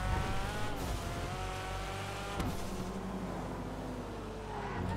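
Engine note of a 2002 Mazda RX-7 ZR350 in GTA Online, a continuous close drone with shifting revs and a faint hint of tire squeal, no voices.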